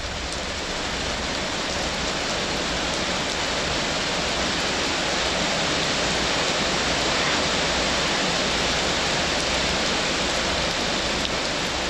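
Heavy tropical rain pours down steadily and evenly for the whole stretch, a dense, continuous hiss with no pauses and no voices, heard while sheltering from the downpour on a scooter trip.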